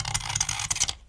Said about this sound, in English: it's difficult for my razor blade to get a bite on the metal